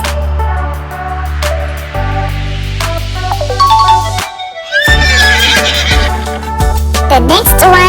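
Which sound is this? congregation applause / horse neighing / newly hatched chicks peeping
horse neighing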